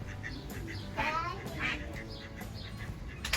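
Ducks quack close by in a loose, repeated series of nasal calls, over a low background rumble.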